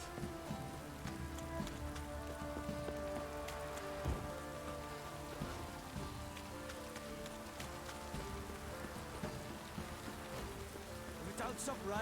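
Steady, soft rainfall in The Witcher video game, a continuous even patter on surfaces with scattered droplet taps, faint and constant throughout with a hint of low background tones.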